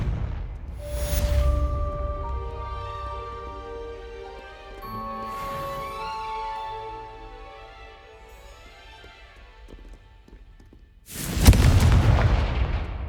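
Confringo fire spell blasts in the Hogwarts Legacy video game, booming bursts at the start and end with a sustained rumble and tonal game music between, loud and close.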